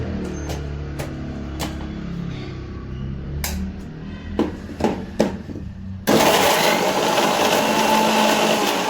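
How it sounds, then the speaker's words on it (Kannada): A kitchen blender grinds cassava for African fufu, first whirring steadily with scattered knocks of chunks hitting the jar, then jumping to a louder, continuous high-speed roar for the last few seconds. "ಮರ್ಗೆಣಸು, ಇದನ್ನು ಬ್ಲೆಂಡ್ ಮಾಡ್ಕೊತೀನಿ"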